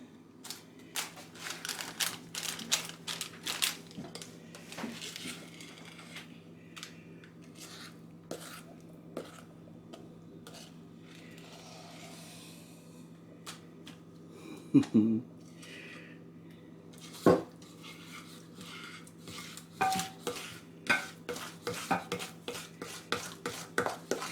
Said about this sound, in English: Just scrape it all out and then we'll level it.